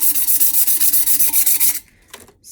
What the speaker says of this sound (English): But you want to kind of scratch the surface of your tumbler